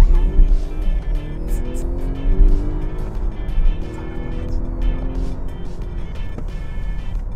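A Volvo XC60 T8 hybrid of 407 hp accelerates hard from 0 to 100 km/h, its engine rising through rising pitch sweeps and gear changes, loud from inside the car, with a voice in places.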